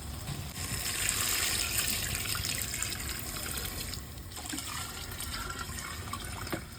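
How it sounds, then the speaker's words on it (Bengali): Water poured from a measuring cup into a pot of browned rice and fried potatoes for bhuna khichuri, a steady close pouring and trickling wash with a brief break midway, no talk. "তাই জন্য 2 জাম পানি দেব।"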